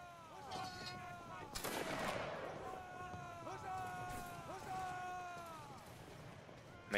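Musket volley from a line of soldiers in the Roblox Waterloo battle game, a sharp crack near the two-second mark spreading into a dense burst, with shouted commands and a constant hum around it.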